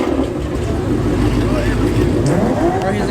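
Loud car engine revving at a car meet, a continuous heavy roar with rising and falling pitch from fairly close, mixed with crowd noise and people talking.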